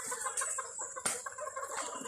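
Chickens on a farm cluck and call in a steady scatter of short, fairly close notes over a dense background of bird noise, with a sharper burst near the middle.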